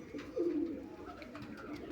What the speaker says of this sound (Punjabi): ਆਪਾਂ ਪਾਉਣੇ ਆ ਜੀ ਵਾਰ ਦੇ ਦਾਣੇ ਕਬੂਤਰਾਂ ਨੂੰ